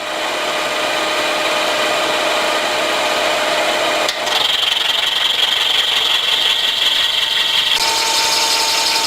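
Silicon bronze stock of 7/16 size being cut on a machine, a continuous loud grinding rasp with a steady tonal whine that shifts pitch partway through, close up with no talking.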